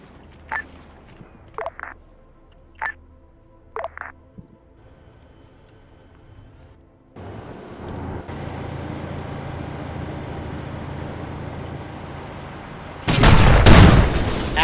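A launcher grenade explodes in a war video game: a few sharp distant pops early on, then a sustained rumbling roar that swells into a loud, close blast near the end.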